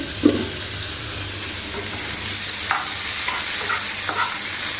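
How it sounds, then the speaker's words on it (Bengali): Steady sizzling of bitter gourd frying in a pan, with occasional light clinks and stirring sounds over the constant hiss. "এবারে উচ্ছে ভাজাটা বসিয়ে দিলাম"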